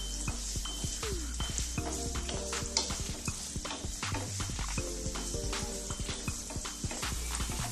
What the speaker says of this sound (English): Stir a little bit